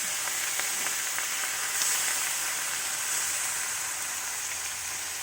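Marinated pork for adobo sautéing in a pan, a steady broadband sizzle and hiss that holds evenly throughout with faint stirring scrapes, no voices.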